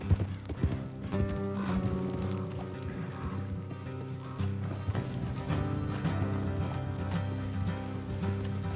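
Horses' hooves clip-clop steadily along a road in Red Dead Redemption 2, the rhythmic clopping sitting under a continuous game music bed with an occasional faint whinny.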